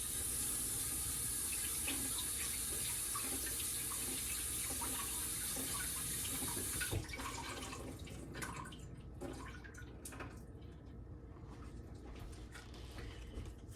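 A kitchen tap runs steadily and close by while fresh berries are rinsed under it, the even rush of water cutting off about halfway through to leave quieter handling and small drips.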